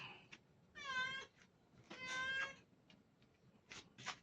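A pet cat meows twice in long, drawn-out calls, close by and faint in a quiet room, followed by a few short softer sounds.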